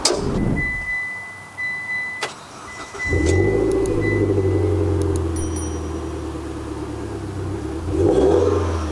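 The engine of a bolt-on turbocharged Proton Inspira 2.0 with CVT roars as it accelerates at full throttle, rising steadily in pitch and loudness after a brief quieter start, close and continuous.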